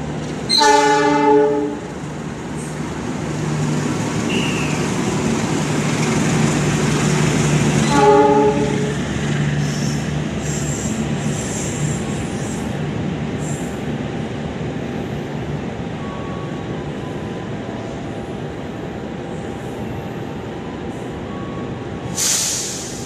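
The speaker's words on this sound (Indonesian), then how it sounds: "Jalur 3 dari arah barat melintas langsung kereta api Argo Parahyangan." An Indonesian express passenger train passes straight through a station without stopping. Its horn blares twice, first at the start and again about eight seconds in, as it rumbles steadily past close by. A brief sharp sound comes at the end.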